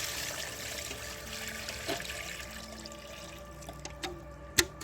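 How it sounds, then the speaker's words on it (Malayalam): Water is gently poured onto a newly planted water plant, a soft steady trickling hiss that gradually thins out, with a few small splashes near the end. "വെള്ളം ഒഴിച്ച് ഇങ്ങനെ കൊടുക്കാം"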